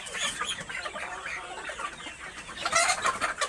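Layer hens near laying age cluck continuously on a poultry farm, a dense overlapping chorus of nearby birds with a louder surge toward the end.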